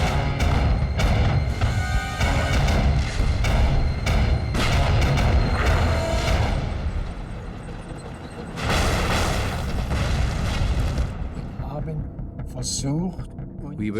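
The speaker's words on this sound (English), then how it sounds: "Enormous explosions." Enormous artillery explosions from a desert tank battle at El Alamein, heard as a dense, continuous roar of booms and rumbling thuds that keeps going loud throughout, dipping briefly before swelling again.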